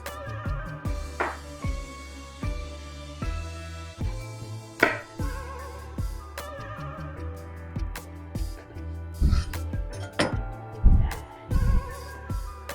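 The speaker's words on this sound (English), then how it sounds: "Now I'm going to slice the eggplant" A knife slices an eggplant into round slices on a cutting board: a series of distinct, close chopping thuds at an irregular pace, with a few heavier cuts clustered near the end.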